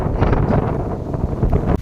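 Strong wind buffets an outdoor microphone in a loud continuous roar with gusty swells and a sudden dip near the end, no talk over it.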